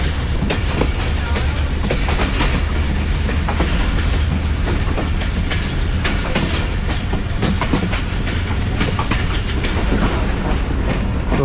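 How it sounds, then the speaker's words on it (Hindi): The Jaffar Express passenger train rolls along rails into Jacobabad, a loud continuous rumble with rhythmic clickety-clack of wheels over joints, heard up close throughout without pause. "ये ट्रेन हमारी जैकोबाद सिटी में दाखिल हो चुकी है"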